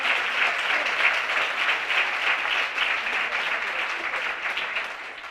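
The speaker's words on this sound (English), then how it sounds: "Give him a round of applause for that." An audience at an awards ceremony claps steadily and evenly for several seconds, tapering slightly toward the end, with no talk over it.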